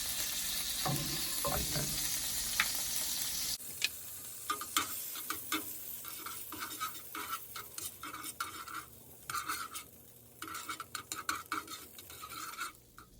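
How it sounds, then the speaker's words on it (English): Butter melts and sizzles in a pan for a Jamaican-style French toast omelette. A soft, hissing sizzle sits under frequent light clicks and clinks of utensils against cookware, and no one speaks. "over here I'm gonna add my butter and I'm gonna leave it to melt"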